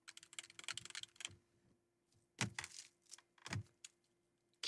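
Typing on a computer keyboard in a quiet room: quick bursts of close key clicks, then a pause, then a few scattered heavier keystrokes, with a faint steady hum underneath.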